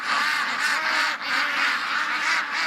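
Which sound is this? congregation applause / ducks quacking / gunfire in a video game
ducks quacking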